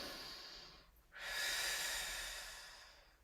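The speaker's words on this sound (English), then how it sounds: "Take a breath." Slow breathing during a full-length foam roller exercise, one exhale fading out, then a deep, close inhale that swells and slowly tapers, with no talking.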